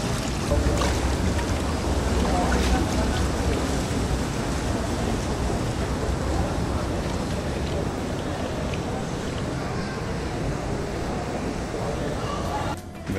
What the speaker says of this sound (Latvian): Sēžam burbuļonā.